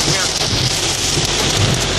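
Heavy rainstorm with thunder, dense roaring rain pounding steadily and loudly throughout, with low rumbling beneath and faint voices.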